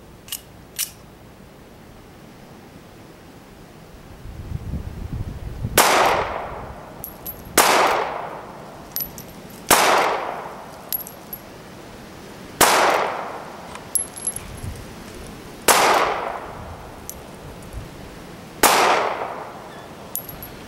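Ruger LCP .380 pistol firing at a target outdoors, seven loud sharp reports spaced a couple of seconds apart, each with a short ringing decay.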